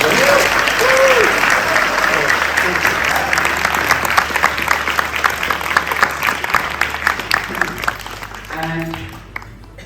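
A crowd at ISKCON Leicester claps for graduates of the College of Vedic Studies, a loud, steady wash of applause that thins into scattered claps as a voice comes in at the end.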